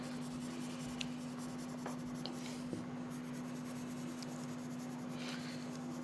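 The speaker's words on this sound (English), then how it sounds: "You will use a pencil color for coloring." Colored pencil rubbing steadily across paper as a drawing is filled in neatly in one direction, a faint continuous scratchy whisper close by over a constant low electrical hum.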